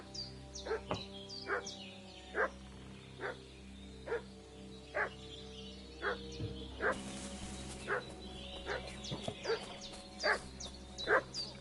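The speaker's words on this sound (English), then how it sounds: "What's that dog making such a fuss about?" A dog barking in the video game Kingdom Come: Deliverance 2, a long series of regular sharp barks with some yips, moderately distant, over a quiet steady background hum.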